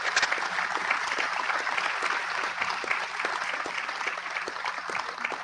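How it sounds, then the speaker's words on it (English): Summit audience at the Global Biodiversity Alliance event in Guyana applauding to welcome a prime minister, a continuous dense clapping from a large room, steady and full throughout. "I think we should give her a huge round of applause for her continuous, sustainable work"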